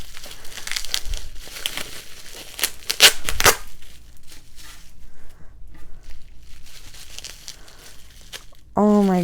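A heavily taped package is torn open by hand, giving bursts of crinkling and ripping tape and cardboard close by, with a voice speaking at times and a quiet stretch before a final burst of noise.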